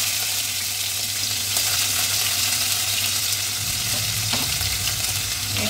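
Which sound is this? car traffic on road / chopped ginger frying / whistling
chopped ginger frying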